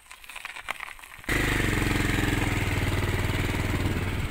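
Small motorcycle ridden over rocky off-road ground near Manjapara viewpoint in Wayanad: a quieter rattling lead-in, then the engine suddenly roars loud and close with a steady, throbbing revving that holds to the end.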